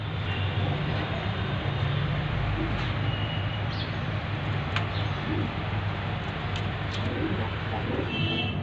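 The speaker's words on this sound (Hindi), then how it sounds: "कलाक की जोड़ है भाई ये, प्योर पंजाबी कबूतर है" A pair of pure Punjabi pigeons coo softly, with faint, scattered calls over a steady hum of nearby road traffic.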